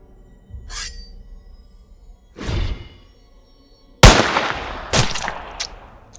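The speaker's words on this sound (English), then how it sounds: "a loud gunshot blasted through the car park" Gunshot sound effects in a narrated horror story set in a car park, several loud sharp blasts with booming tails, the last two hitting hardest, with no talk.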